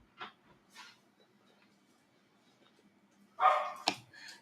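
A pet dog barks a few times, excited as large boxes are opened during a weekend trading card break: a couple of faint early yips, then a sharper, louder burst of barking near the end.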